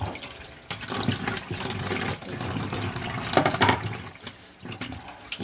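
Pork belly is washed under running tap water, a steady close splashing stream with irregular surges and dips as the meat is rubbed and turned beneath it.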